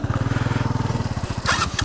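Rusi KRY 150 motorcycle engine idling on an off-road trail, a steady close throb with a brief rev and scrape near the end, no talk.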